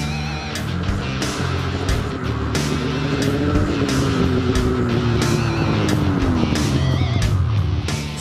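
Polaris 800 Switchback Assault 144 snowmobile riding a trail, its two-stroke engine roaring loud and close with shifting pitch and repeated rattling bumps throughout.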